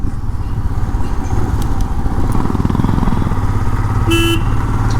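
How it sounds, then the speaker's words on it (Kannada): Two motorcycles carrying four riders head out from Dandeli, their engines droning loud and steady up close, with a brief horn beep near the end. "ಎರಡು ಬೈಕಲ್ಲಿ ನಾಲ್ಕು ಜನ ಹೋಗ್ತಾ ಇದ್ದೀವಿ"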